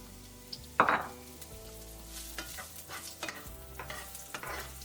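Small chopped onions stirred and sautéing in hot oil in a pan for a Tamil crab masala, with a soft sizzle under scraping spoon strokes and a sharp clink near the start, fairly quiet and without talk.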